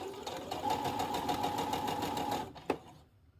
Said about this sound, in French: je peux poursuivre la suite de la couture.